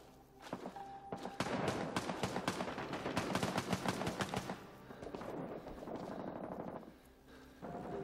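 Bursts of automatic rifle fire in Rising Storm Vietnam crackle in rapid strings of sharp reports, loud and close, with a lull before a final volley and no talk over them.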